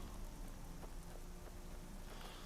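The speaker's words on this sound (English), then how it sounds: "Got a rainy day." Steady rain in Skyrim, a constant soft hiss of falling drops with faint patters, fairly quiet and continuous with no talk.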